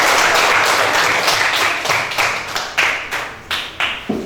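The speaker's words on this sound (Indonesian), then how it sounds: "berikan tepuk tangan yang meriah untuk" A class of students claps after a group presentation in a school lesson: a full burst of applause that thins over four seconds into a handful of separate, distinct claps.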